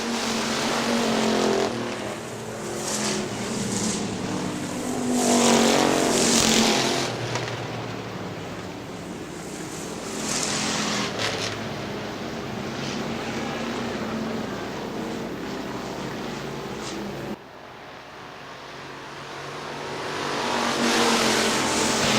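Factory stock cars race around the oval at Hartford Speedway Park in Michigan, engines roaring past in repeated waves that swell and fade as the pack circles, with a steady crowd-and-track din between passes.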